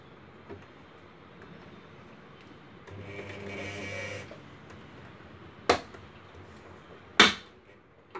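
A sewing machine stitches a kali salwar in a short whirring run, followed by two sharp clicks or knocks.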